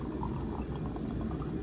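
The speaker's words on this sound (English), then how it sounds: "I can use the lined gradients on the beaker and just pour up" Buffer solution poured into a graduated laboratory beaker, a steady gurgling stream of liquid with a bubbling, slightly hollow quality, continuous and close.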